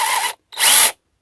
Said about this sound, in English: So let me connect a battery to it and give it a quick zap.